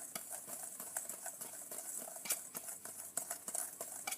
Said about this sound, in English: Here we have all the spices in the bowl for our chili seasoning. The chef's gonna mix it right up.